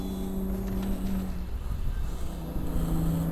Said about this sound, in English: That is a really loud motor.